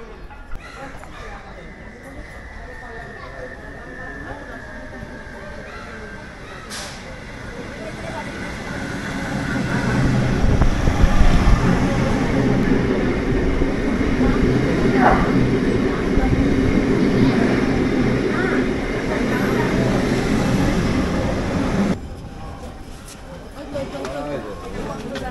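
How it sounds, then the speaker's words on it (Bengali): A train pulls into Andal station in West Bengal, a broad rumble of wheels and carriages swelling to a loud, sustained roar midway before cutting off abruptly, with quieter station ambience on either side. "ট্রেন প্রায় চলে এসছে অন্ডাল স্টেশন"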